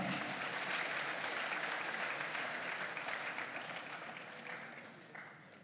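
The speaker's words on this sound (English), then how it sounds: "Please, a round of applause for Pel." An audience at a school farm competition awards grand final gives a round of applause as the awards chair is welcomed: dense, even clapping from many hands that slowly fades toward the end.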